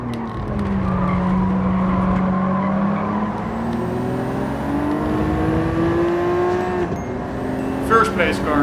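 Race cars in Gran Turismo 7, played with no driving aids, give a loud, steady engine roar with sweeping gear-change pitch and tire squeals and skids building toward the end.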